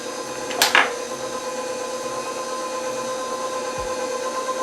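A stand mixer running with pizza dough flour in the bowl, a steady motor whir with a brief clatter near the start, close and continuous with no talking.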